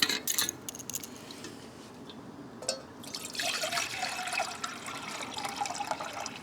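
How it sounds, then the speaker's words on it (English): Water poured into a cheap budget camping stove during a test, a faint trickling and splashing that grows fuller partway through, heard alone without talk. "So my plan is, first test, I'll pour some water in, I suppose."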